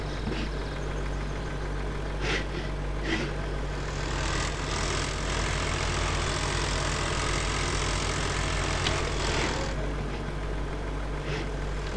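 A tractor engine idles in Farming Simulator 2013, a steady low drone with a constant hum underneath, joined by a brighter rumble in the middle of the stretch, with a few soft clicks.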